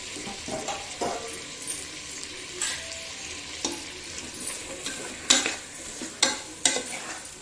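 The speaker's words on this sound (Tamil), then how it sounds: "இந்த மசாலா கூட இந்த தக்காளி நல்லா சேர்ந்து வதங்கி நல்லா குழஞ்சி வந்துடணும்." Tomatoes and masala sauté in a pan for chicken biryani, with a soft steady sizzle and several sharp spoon scrapes and clanks against the pan as the mixture is stirred.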